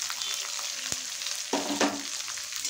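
Chopped onion and slit green chillies hitting hot oil with lightly fried garlic for egg fried rice, a soft steady sizzle with a couple of sharp clacks and bursts of stirring partway through.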